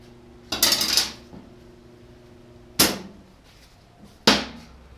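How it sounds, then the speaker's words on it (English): Light slag being scraped off a weld bead laid with a 6011 welding rod: three separate scraping strokes, the first longer and rougher, the others short metallic rasps, close and clear with no talk. "6011 produces a light slag. It's very easy to get off. You don't have to beat on it. Basically, you scrape it."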